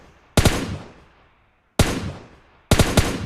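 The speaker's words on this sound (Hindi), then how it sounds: "हम थोड़ा बहुत गोलियाँ मारते हैं।" Gunfire in PUBG Mobile Lite comes as three sharp, loud automatic bursts, each a tight cluster of shots followed by a decaying echo, with pauses between them.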